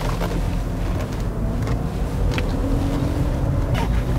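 BMW X3 with the N52 six-cylinder petrol engine running at a steady, smooth idle, a continuous low rumble that is close and fairly loud, with no voices over it.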